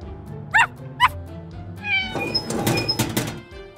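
Cartoon kitten meows twice in quick succession, bright and close, before a busier stretch of soft knocking and tonal background sounds from the animated scene.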